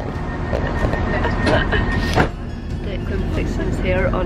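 Steady rumble and clatter inside a moving train in Scotland, with rattling, a brief louder knock midway, and people talking nearby over the ride noise.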